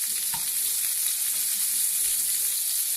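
Boudin (blood sausage) frying in a pan gives a loud, continuous sizzle and crackle, close and steady with no voices.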